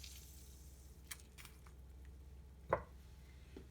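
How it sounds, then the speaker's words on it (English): A fresh lemon squeezed by hand into a cup of ginger tea, a faint, close, soft squish with a single wetter squelch, and no speech. "Add a squeeze of lemon."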